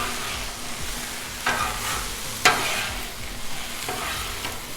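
Onions and beef sizzle and get stirred and chopped on a Blackstone griddle, a constant close frying hiss broken by a few sharp scrapes and taps of a metal spatula.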